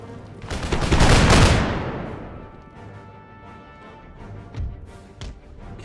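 A musket volley in the video game Empire Total War erupts as one loud, crackling burst of many shots together, then fades into a rumbling tail with scattered distant pops afterward.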